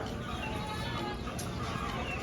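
A fighting rooster clucks steadily amid dense, noisy background sound, fairly close and continuous without clear breaks.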